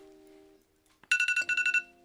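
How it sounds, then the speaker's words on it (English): Phone alarm ringtone suddenly going off, a bright repeating electronic chime pulsing in quick regular beeps, loud against a quiet room after a low steady tone. "One of my alarms went off."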